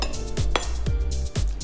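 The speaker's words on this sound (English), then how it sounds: "I'm just gonna put the bacon into a cold cast iron frying pan" Strips of bacon are laid into a cold cast iron frying pan, giving several soft, close taps and thuds at an uneven pace, with no sizzle and no speech.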